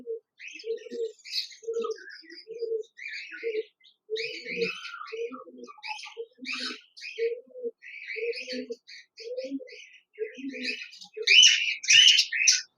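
Caged pet birds at a bird shop, including budgerigars, chirp and tweet continuously with overlapping calls, a mix of low coo-like notes and bright high twitters, fairly close and steady with no talking.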